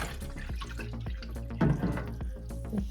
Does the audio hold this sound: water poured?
yes